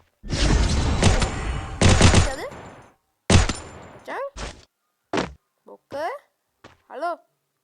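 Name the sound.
gunfire from Free Fire video game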